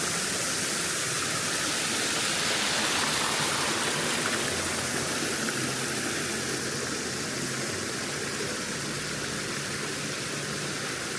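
Water rushes steadily at Helensburg waterfall, a dense, even broadband roar heard from the top near the edge, continuous and fairly close throughout with no talk.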